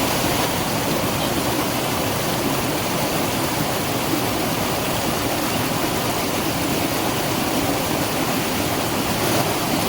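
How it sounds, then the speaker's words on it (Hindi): Monsoon mountain stream in heavy rain, a loud, unbroken rush of churning water filling the whole soundscape close by, with no voices. "ये गधेरा है जो पीछे से आ रहा है, इसमें आप देख सकते हैं किस कदर पानी यहाँ से बहता हुआ आ रहा है"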